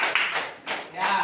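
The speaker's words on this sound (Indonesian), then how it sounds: "Beri tepuk tangan untuk saudara Alifah." Classroom clapping for a student, arriving in a few short bursts of hand claps with brief gaps between them, fairly close and moderately loud, with no voices heard over it.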